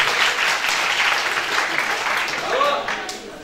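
An audience claps during a plaque presentation at a seminar hall in Haymana. Brisk, continuous applause carries through, with a voice briefly audible beneath it near the end.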